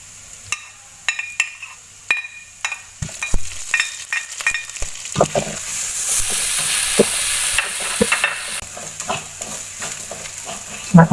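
Ginger frying in a wok for crab in tomato sauce, stirred with a utensil: sharp scraping and clinking strokes at first, then a loud, continuous sizzle with repeated stirring noises through it.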